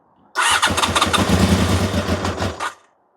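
Honda motorcycle engine cranked with choke out and clutch in, catching and sputtering loudly up close for about two seconds of uneven firing before cutting out without settling into a run.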